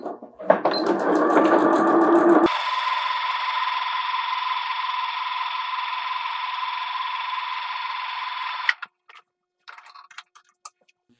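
A sewing machine topstitches a seam on a patchwork pouch, running in a loud, steady whir for several seconds before stopping, followed by a few faint clicks and no talk.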